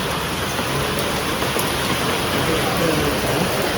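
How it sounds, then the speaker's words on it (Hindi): Heavy rain pours down in a sudden downpour during a family rain vlog, a dense, loud, steady hiss of drops hitting surfaces that fills the whole stretch without letup. "तो गाइस आवाज चेक करो, एकदम से तेज बारिश आई है।"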